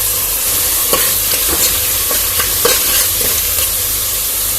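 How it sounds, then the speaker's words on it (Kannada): Onion, tomato and greens fry in hot oil, a steady loud sizzle running throughout, with a spoon scraping and stirring the pan in regular strokes roughly every second. "ಚೆನ್ನಾಗಿ ಫ್ರೈ ಮಾಡ್ಕೊತೀನಿ"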